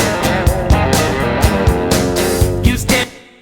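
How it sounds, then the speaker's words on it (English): Recorded reverse guitar lead in Pro Tools played forward, a dense, loud riff with swelling notes and rhythmic accents running steadily before cutting off. "so here's my reverse guitar lead that I did"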